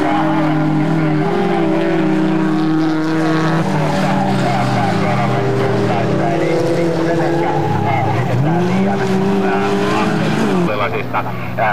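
Rallycross cars race hard on a Finnish track, one of them rolling over just before the finish line, with loud revving engines and shifting pitch throughout under steady commentary.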